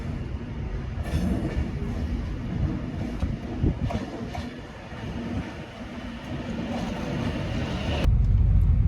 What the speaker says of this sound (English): My train's on time.